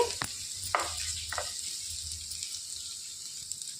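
Garlic and other ingredients for tamarind-leaf coconut chutney fry in a pan, giving a soft sizzle broken by a few quick stirring scrapes near the start.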